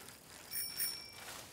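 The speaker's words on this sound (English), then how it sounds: "the first one to find the calf rings their bike bell" Cartoon bicycle bell ringing, a short bright double ding that is clear and close, with no talking.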